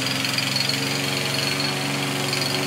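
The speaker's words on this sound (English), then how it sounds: "Look at me mowing this lawn." A lawn mower engine runs steadily nearby, a loud constant drone with a buzzing mechanical rattle and no pauses or voices.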